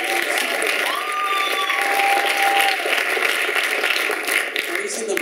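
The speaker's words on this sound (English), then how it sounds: "let's clap a little bit for that" A worship chapel congregation at a Christian university claps steadily, with the broadband patter continuing for several seconds while a sustained sung or held tone runs over it briefly.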